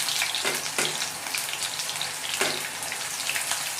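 Chopped onions and green chillies crackle and spit in hot oil, a dense sizzle with sharp popping bursts, close and steady, and nobody speaking.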